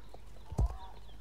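A single soft hoof clop or horse sound in the Star Stable video game, one brief low thud over faint background noise.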